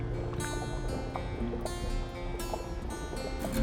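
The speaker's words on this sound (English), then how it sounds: "got the noise of the highway going on, boat traffic ripping past here" A passing boat's motor drones steadily nearby on an urban river in Peterborough, Ontario, with water splashing and wind buffeting the microphone; no one speaks.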